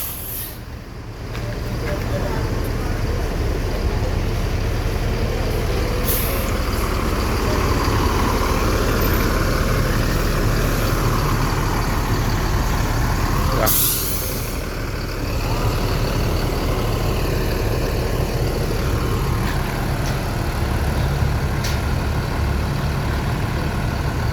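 A luxury-class sleeper bus engine idles steadily with a deep rumble for a long stretch, with occasional sharp hissing bursts of air brakes and voices talking nearby.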